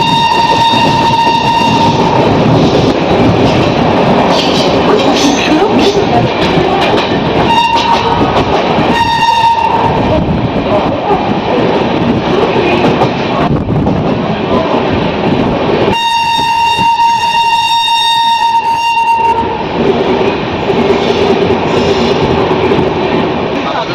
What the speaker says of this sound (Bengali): নিউ দিল্লি দুরন্ত এক্সপ্রেস ট্রেনটি ছাড়বে 9 নম্বর প্ল্যাটফর্ম থেকে আর দিল্লি পৌঁছে দেবে 8 নম্বর প্ল্যাটফর্মে